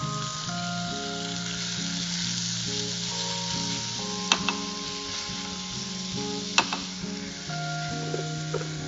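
Chopped tomatoes sizzling in a pan for green pea soup, a steady close frying hiss with a low hum running beneath and two sharp clinks of a utensil against the pan.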